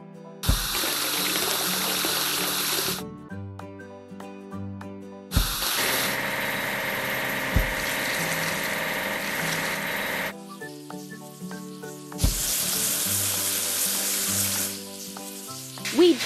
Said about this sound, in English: Now let's wash the bucket lift.